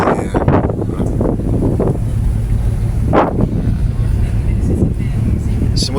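Wind buffets the open view deck of a passenger ship sailing a calm sea, with a low engine rumble running steadily underneath and people talking intermittently over the noise.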